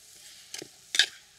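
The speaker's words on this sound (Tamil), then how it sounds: "பச்சை வாசனை போகிற வரைக்கும் லைட்டாக வதக்கி எடுக்கணும்" Spice powders, including chili powder, are stirred and sautéed in a pan over low heat, heard as two short, faint scraping sizzles against a quiet background.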